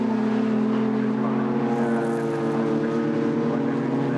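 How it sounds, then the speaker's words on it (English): Historic racing cars, including a Datsun, roar past at a Historic Sports Car Club race, a loud continuous engine drone with a steady pitch that swells slightly mid-pass. "There's William Jenkins 4th in the Datsun."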